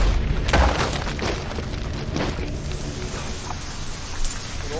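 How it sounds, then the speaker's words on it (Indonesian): Rain falling steadily with a dense, continuous hiss and patter over a low rumble, fairly loud and unbroken throughout, with no talking. "Hujan pun turun, suasana menjadi sedih."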